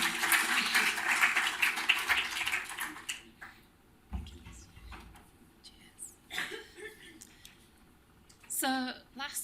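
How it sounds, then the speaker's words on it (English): Brief patter of audience applause at a heritage funding event, loud at first and then thinning out, followed by scattered quieter sounds and a short burst of talk. "Give him a round of applause."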